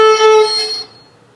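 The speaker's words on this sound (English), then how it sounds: "if I go up this way, I'm going to get that squeak because I got crooked." A fiddle bow drawn crooked across the string gives a brief, bright, squeaky tone with thin harsh overtones that fades out within about a second, close and fairly loud.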